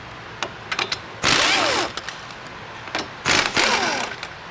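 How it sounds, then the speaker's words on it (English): 24mm strut nuts and bolts being removed on a Mustang: two bursts of a power impact tool whirring and rattling, each about half a second long, with scattered clicks between them. "We're gonna remove these 24mm nuts right here to remove these bolts to remove the strut."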